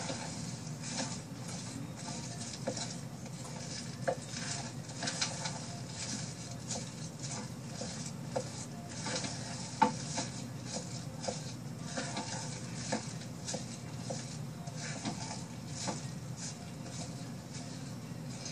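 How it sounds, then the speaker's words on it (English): Cream soap mixture stirred in a pot, a soft continuous scraping and patter with occasional small knocks, close and fairly quiet, with no voices. "Okay, it's been 15 minutes again. Time to stir."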